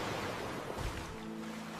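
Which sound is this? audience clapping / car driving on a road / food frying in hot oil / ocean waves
ocean waves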